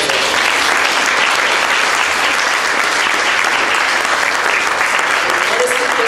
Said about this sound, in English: I want everyone to give her a round of applause